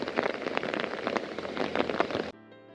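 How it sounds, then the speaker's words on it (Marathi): Heavy rain hammers down hard and dense, with a thick patter of drops on surfaces that cuts off abruptly near the end. "एवढा जोरदार पाऊस चालू आहे आमच्याकडे रात्रीपासून"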